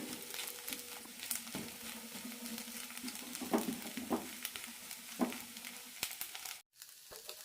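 Upma made from idli or dosa batter cooking over a medium flame in a pan, with a continuous sizzle and repeated scraping stirs at a close, moderate level and no talking.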